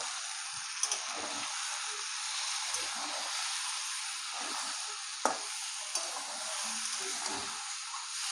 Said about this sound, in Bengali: আর মশলাটাকে ভালো করে কষাবো।